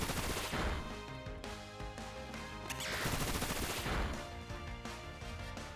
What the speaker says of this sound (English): I love Bullet Seed.